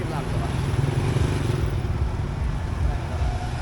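A motorcycle climbs a slope with a steady, loud engine drone that stays close and constant throughout.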